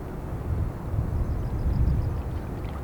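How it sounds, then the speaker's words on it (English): An Airbus A220-100 small jet at an airport on a windy day, its steady broad engine roar rumbling low and fairly close for a few seconds, with a faint whine above. "It's a great looking small aircraft. the A220 from, I think it's the A220-100"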